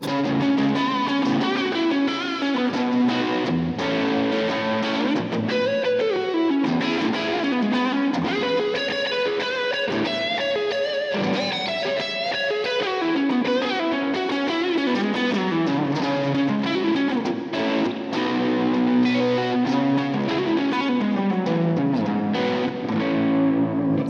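Overdriven electric guitar, a Gibson Custom Les Paul with a Floyd Rose with coil split engaged, plays a long run of chords and descending melodic lines, loud and steady throughout, with no voices.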